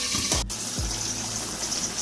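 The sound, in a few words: mutton boiling and bubbling in a pot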